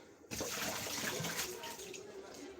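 Warm water runs steadily from a tap over hands in cold weather, a faint continuous splashing that starts abruptly after a brief quiet moment.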